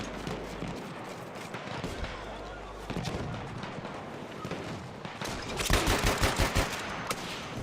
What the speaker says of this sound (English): He just got shot from behind.